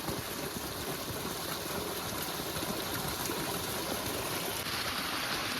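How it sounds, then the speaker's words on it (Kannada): Steady rushing of a hillside water stream flowing continuously, near and even in level with no voices, a broad constant wash throughout. "ಈ ನೀರ್ದ ಸೌಂಡ್ ಏತು ಚೋಕು ಕೇನರ"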